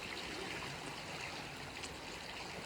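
Fast-flowing creek water pouring toward the ocean on the Croatian seaside near Dubrovnik, a steady, dense rushing wash that fills the whole clip at an even, moderately loud level with no voices.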